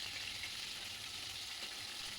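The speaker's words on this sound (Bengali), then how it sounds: "মাছের 2 পিঠ আমি এভাবে তেলের মধ্যে উল্টে পাল্টে 2 দিক ভালোভাবে ভেজে নিচ্ছি" Pieces of katla fish fry in hot oil, a steady bright sizzle holding at an even level throughout, close up with no voices.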